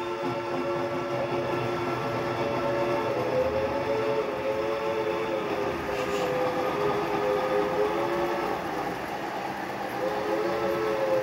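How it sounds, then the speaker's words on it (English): A model steam locomotive pulling a substantial train rumbles steadily along Atlas Code 83 track, its wheels and motor humming with a continuous, even drone for the whole stretch. "What about one steam locomotive and a pretty substantial train?"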